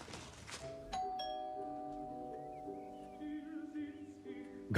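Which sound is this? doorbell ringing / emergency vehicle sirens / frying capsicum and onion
doorbell ringing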